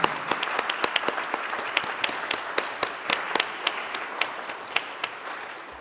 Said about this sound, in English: Let's have a nice round of applause for the boys.